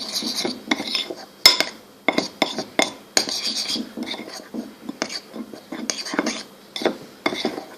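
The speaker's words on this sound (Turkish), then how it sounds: "Daha sonra bunu iyice karıştırıyoruz." A spoon stirs cake batter inside a drinking glass, making quick, rhythmic clinks and scrapes against the glass, close and clear, for a mug-style cake.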